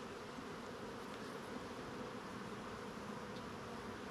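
Honeybees buzzing around an open hive during a frame inspection, a dense steady hum of many insects close by, unbroken for the whole stretch with no voices.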